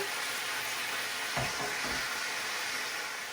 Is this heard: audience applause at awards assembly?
no